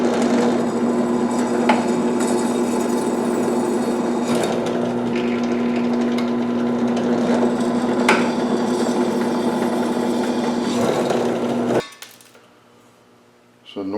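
Steady motor whine of a drill boring holes in a knife handle meant for brass pins, running continuously and fairly loud for about twelve seconds before stopping abruptly, leaving near quiet.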